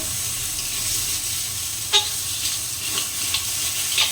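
Masala spices sizzle and fry in a pan in a home kitchen, a steady soft hiss with a few brief louder crackles and stirring clinks, no voices.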